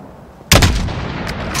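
A single loud rifle shot in Call of Duty Modern Warfare fires after half a second of near silence, cracking sharply close by, then a long rumbling echo trails off with faint ambience.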